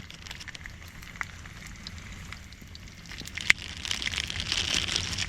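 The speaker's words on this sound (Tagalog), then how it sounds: "Hindi pa rin nawawala yung ulan." Rain falls at a campsite during a motocamping trip in Burgos, Pangasinan, a steady patter with scattered drips and crackles that grows louder and denser toward the end, with no talk.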